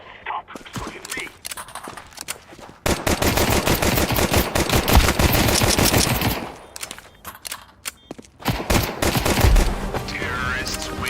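Rapid automatic gunfire from Counter-Strike 2 rattles in long dense bursts, loud and close, with brief pauses between volleys and scattered single shots.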